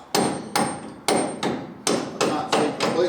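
A lump hammer strikes a bolt on an XY Falcon with an LS2 engine. About seven sharp, ringing metallic blows come at an uneven but steady pace, close and loud, with no talk.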